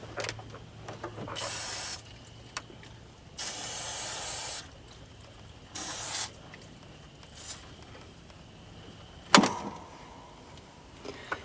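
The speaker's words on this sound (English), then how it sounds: "So what I'm going to do is just spray some of this in this intake." Cleaner sprayed from an aerosol can into a car engine's air intake during an oil change, heard as four or five separate hissing bursts of a second or two each, close by, with a clunk between them and no talk.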